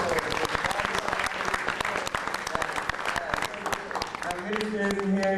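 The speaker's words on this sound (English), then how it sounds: "What about a big hand for the people putting out this festival?" Crowd applause for the organisers at a reggae film festival, sustained dense clapping across the whole stretch, with voices and some tonal sound rising underneath toward the end.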